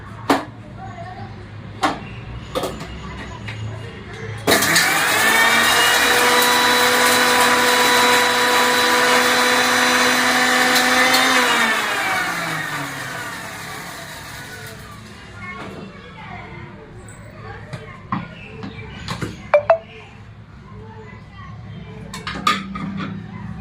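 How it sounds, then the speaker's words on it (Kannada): A mixer grinder whirs loudly and steadily as it grinds jaggery into a smooth paste, running for several seconds before winding down; scattered clatter and a voice come before and after. "ನಾವೇನಿದು ಬೆಲ್ಲ ತಗೊಂಡಿದ್ವಲ್ಲ ಮಿಕ್ಸಿಗೆ ಹಾಕೊಂಡು ಬರೋಣ"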